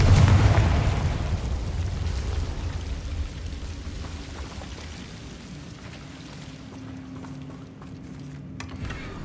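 A Confringo fire-blast spell bursts loudly at the start in Hogwarts Legacy, its broad rumbling blast decaying over several seconds into a low, lingering magical hum.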